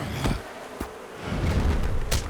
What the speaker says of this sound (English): the bees aren't happy that I took some stuff in their hive?